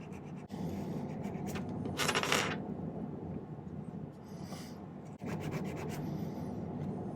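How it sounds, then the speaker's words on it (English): A half-round jeweler's file rubs and rasps against a silver rolling ring, clearing excess solder from the inside. Steady close scraping strokes run throughout, with a brighter burst of rasping around the two-second mark. "remove the excess solder from the inside. Just usually use a jeweler's file like this, a half round"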